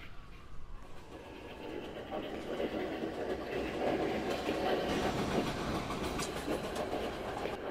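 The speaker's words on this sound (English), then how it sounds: "Okay, the 7 train is coming." A 7 local subway train pulls into a station in a video game, its rumble and clacking wheels swelling steadily and staying loud and close.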